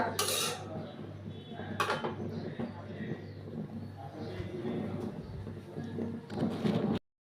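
Jute leaf greens cooking in a pot, with clinks and scrapes of utensils against metal cookware and a few sharp clatters, under a steady low hum and occasional bird coos in the background.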